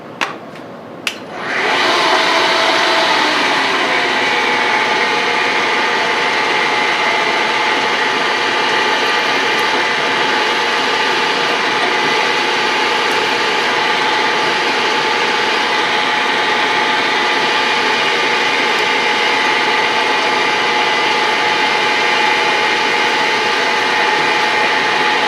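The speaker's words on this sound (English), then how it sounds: "Alright, we got our drill bit loaded in, and here we go. We're going to drill through now." A lathe drives a number 7 drill bit through a workpiece for a ball turner project, a loud steady mechanical whine with a tonal hum that starts abruptly and holds unbroken for over twenty seconds.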